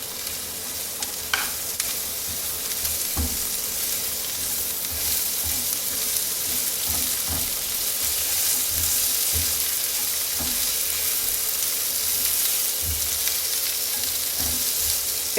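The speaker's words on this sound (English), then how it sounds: "As soon as the garlic hits the pan, it always smells so fragrant." Garlic and peppers frying in a pan with onions give a steady sizzle throughout, with occasional clinks and scrapes of stirring and no talking.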